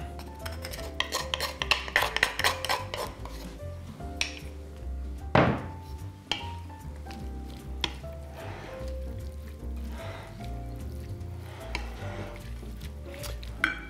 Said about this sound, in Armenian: Լցնում ենք սոուսը և լավ խառնում։